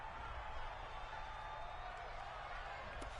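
A home football crowd in an NFL stadium cheers a penalty flag on third down, a steady broad roar held at even loudness throughout, with commentators talking over it.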